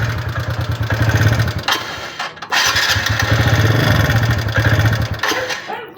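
A TVS Ntorq scooter engine idling with an abnormal clattering noise: a loud, close, uneven putter that dips and nearly dies around the middle, then picks back up, with no voice over it.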